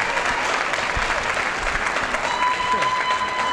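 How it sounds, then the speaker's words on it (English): An audience at a men's bodybuilding show claps in a steady, dense burst that stays even and fairly loud throughout, with a thin tone and faint voices beneath. "Let's give her a round of applause as well."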